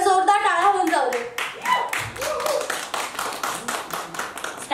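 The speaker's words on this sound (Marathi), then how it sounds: "एकदा जोरदार टाळ्या होऊन जाऊ दे." An audience at a Marathi stand-up comedy show claps after a spoken introduction. The clapping is a loose, uneven patter of individual hand claps, close and moderate in volume, with a voice audible at the start.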